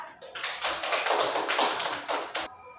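A classroom bursts into brief applause, a dense patter of clapping hands lasting about two seconds before it stops abruptly.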